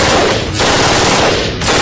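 An Israeli-made assault rifle fires sustained bursts, dense and loud at close range, with two brief pauses and no voices.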